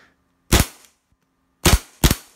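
A WE full-metal Desert Eagle airsoft pistol with full-stroke slide fires three loud, sharp shots indoors, one alone and then two in quick succession, each a hard crack with a brief mechanical tail.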